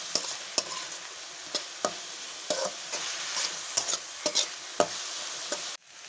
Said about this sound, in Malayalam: ഇവിടെ കറിവേപ്പിലയും കൂടി ഇട്ട് കൂട്ടി യോജിപ്പിക്കുക.